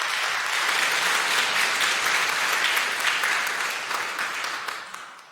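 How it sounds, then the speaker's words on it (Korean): A church congregation applauds to welcome new members during a Sunday worship service, a full, steady round of clapping that swells briefly and then tapers off over about five seconds. "여러분들 환영의 박수 부탁드립니다."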